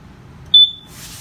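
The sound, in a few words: propane leak detector alarm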